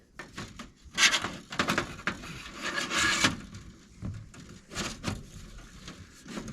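Metal stove panels on a Pomoly stove slide and knock into place inside a hot tent, a run of close, uneven scraping clunks and rattles with brief pauses.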